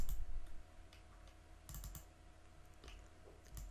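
Quiet, sparse computer mouse clicks come while editing in Adobe Premiere Pro, a few isolated taps and a small cluster over a faint background hum.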